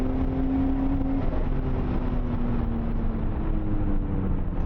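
A Nissan A31 Cefiro strains uphill in third gear at full throttle, giving a steady, loud, droning engine note that holds nearly constant pitch and barely climbs, with no talk over it.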